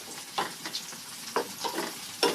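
Ivy gourd (dondakaya) sizzles and fries in a pan, with a constant crackle broken by several sharp scraping stirs of a spatula spaced irregularly, close and fairly quiet, with no talking.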